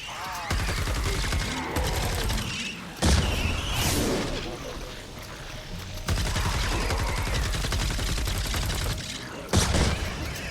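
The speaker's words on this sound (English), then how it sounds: "They're all exploding too, which isn't great." Repeated booming explosions and crackling blasts roll through a busy Fortnite Save the World battle, loud and continuous with a few sharper bursts, while a voice speaks over parts of the din.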